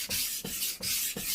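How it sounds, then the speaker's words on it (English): A knife blade is drawn back and forth across a Japanese whetstone at a held angle, giving four rhythmic, close, quiet rasping strokes with short pauses between them. "I'm maintaining the angle with the knife and the stone"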